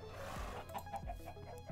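A chicken in Minecraft gives a few short, soft clucks in quick succession, quiet against the game's background.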